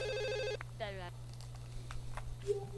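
Electronic telephone ringtone in The Sims Bustin' Out video game, one short tonal ring burst followed by a warbling electronic tone, over a low steady hum, with a voice talking afterward.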